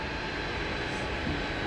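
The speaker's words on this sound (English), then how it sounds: "this is the sound of the plane taxiing to the runway." An airplane taxiing to the runway gives off a steady, moderately loud engine whine and rumble, a brief continuous hum with no voices over it.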